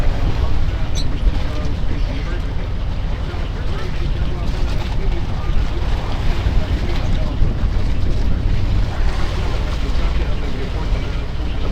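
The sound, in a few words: gusty northeast monsoon wind at sea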